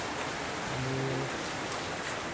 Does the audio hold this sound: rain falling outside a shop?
yes